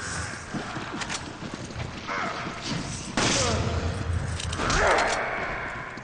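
A burst of explosion noise in Resident Evil 5 Mercenaries erupts partway through, loud and booming amid chaotic gunfire-like clatter, with a voice talking over the action.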